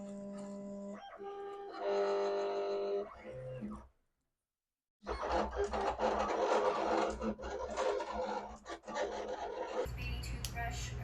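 A sticker cutting machine runs in steady bursts of whirring, rasping blade and carriage motion, close and moderately loud, broken by a brief silent pause before the mechanical scraping resumes.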